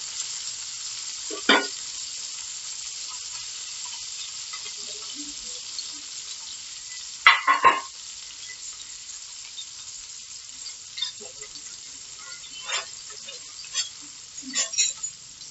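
Chopped tomato and potato going into a pan for sabudana khichdi, with quiet frying, a few stirring scrapes and spoon clinks spread across a mostly hushed stretch, close and faint.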